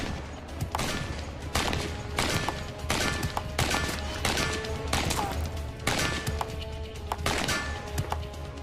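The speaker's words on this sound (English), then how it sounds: "soldiers could lay down a full magazine of automatic suppressive fire in seconds" An AK-47 rifle fires a string of loud, sharp shots at a steady, spaced rhythm, each crack followed by a brief echoing tail outdoors.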